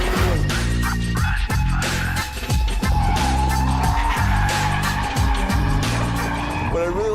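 A 2015 BMW M3 is pushed to its limits on dry pavement, engine roaring loud and close while the tires repeatedly squeal and skid through the turns.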